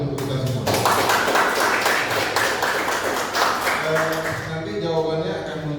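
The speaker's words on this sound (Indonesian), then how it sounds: "Beri tepuk tangan untuk kita semua." An audience applauds together in a classroom-style teacher presentation, a dense burst of clapping that runs steadily for several seconds before thinning out while a voice speaks over the tail.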